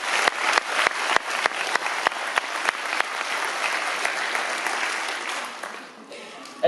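A graduation audience bursts into applause: several loud, close individual claps ring out first, then many hands fill in a dense, sustained clapping that eases toward the end.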